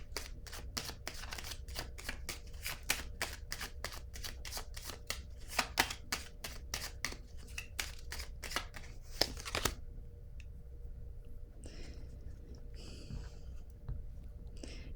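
Tarot cards shuffled in a fast run of crisp riffling snaps for about ten seconds, followed by softer sliding and a card being drawn in a quiet room.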